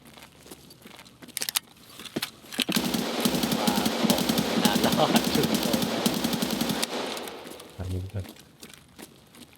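Rapid automatic gunfire rattles continuously for several seconds, loud and dense, with other game sounds and a voice around it, in Escape From Tarkov.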